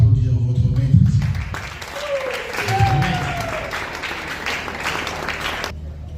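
An audience applauds at an NGO launch event, with clapping building under a speaking voice at first, then a fuller wash of applause that holds before cutting off near the end.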